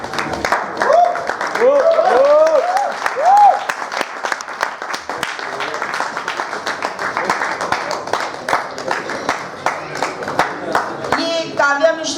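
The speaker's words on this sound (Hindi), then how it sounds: "जोरदार तालियां हो जाए हमारे" An audience claps at an award ceremony during a theatre festival, a dense, sustained patter of applause lasting throughout, with people talking over it near the start.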